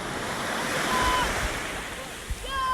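Sea waves washing onto a beach in Lebanon, a steady windy rush of surf close by, with faint voices and a brief knock in the background.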